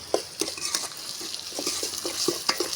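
Onions and ginger paste fry in a pan as a spoon stirs them, with a steady soft sizzle and repeated scraping taps from the utensil, heard up close.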